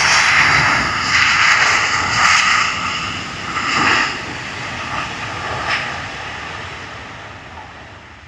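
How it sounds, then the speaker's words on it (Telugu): Jet engines on a Scoot airliner roar close by with a loud, broad, steady rush that swells and ebbs slightly as the aircraft passes, then slowly fades; no one speaks over it. "పెద్ద సౌండ్ వస్తుంది కదా ఇప్పుడు వస్తుంది చూడండి విమానము"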